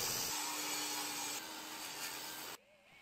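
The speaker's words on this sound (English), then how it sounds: "I cut out a 3/4-inch groove into a pressure-treated 2x4" A saw cuts a groove into a pressure-treated wooden 2x4, giving a steady, loud rasping grind with a constant high whine that stops abruptly near the end.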